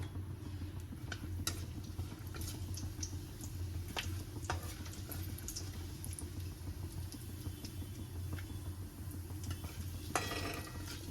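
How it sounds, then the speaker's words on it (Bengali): Whole garam masala, bay leaf and cumin frying in hot oil in a kadai, a faint steady sizzle with a few scattered ticks and crackles, no talking. "এবার মশলাটা কষার জন্যে তেল দিয়ে দিলাম, তেজপাতা, এটা হচ্ছে তোমার গোটা গরম মশলা আর জিরেটা।"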